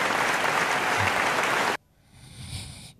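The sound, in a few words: audience clapping at award ceremony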